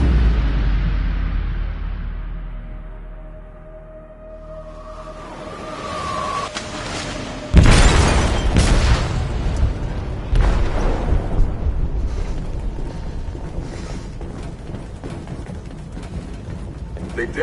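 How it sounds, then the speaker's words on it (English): A sudden loud explosion goes off in a ship's hold in the video game Detroit Become Human, a sharp boom at mid-clip that rolls into sustained rumbling and debris noise, preceded by quieter tense ambience with voices. "They detonated an explosive in the hold."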